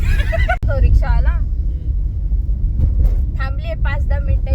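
A steady low engine rumble from an auto rickshaw pulling up runs throughout, with people talking loudly over it.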